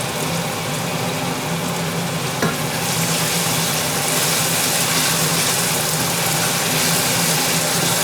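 Peeled, finely cut tomato sofrito frying in a pan for a bean and octopus stew makes a loud, continuous, dense sizzle close by, with one small knock partway through.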